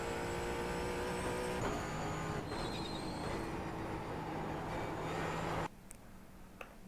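A Ford Mustang race car engine on the Summit Point track, dropping from fifth to third with a steady loud drone that shifts pitch partway through, then cuts off abruptly near the end.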